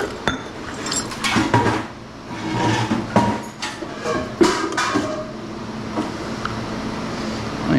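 Hammer blows smashing plastic out of aluminum scrap at a scrapyard, a series of loud, irregular metallic bangs and clanks with scraping between strikes, close by.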